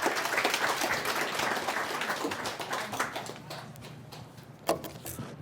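Audience applause welcoming a speaker to the front at an agricultural disaster insurance loss assessors' meeting, a dense sustained clapping from a crowd that thins out toward the end with one sharper knock near the close.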